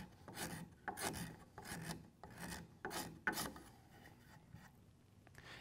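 A steel card scraper works a wooden workpiece in repeated rasping strokes, each a dry, close scrape with brief pauses between passes, steady and fairly loud with no voices.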